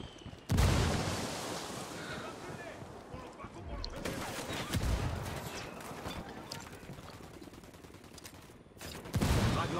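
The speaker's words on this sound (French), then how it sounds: "Je vais essayer de lancer une petite grenade." In the game Ghost Recon Wildlands, a frag grenade bursts into loud gunfire, with dense volleys and several sharp, booming blasts rolling through a continuous, close battle roar.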